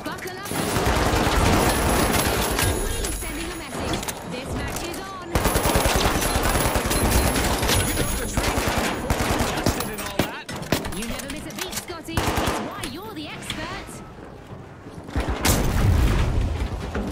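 AKM rifle fitted with a scope firing in the video game The Finals, loud sustained bursts of automatic gunfire with booming impacts, brief pauses between volleys, and a voice talking over the shooting.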